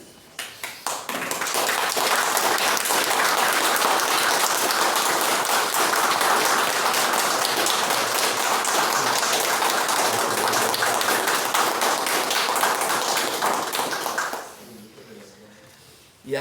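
Sustained applause from a live audience at a spiritist workshop gathering, dense steady clapping for about fourteen seconds before abruptly dying down into quieter room sound.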